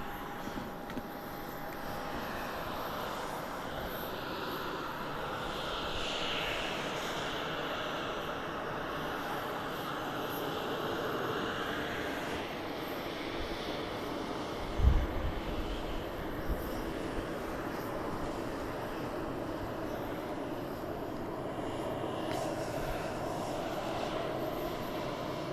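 Boeing 737-700 airliner on flight 714 to Austin at Dallas Love Field, its jet engines a broad steady roar that holds at constant loudness, with a brief thump partway through.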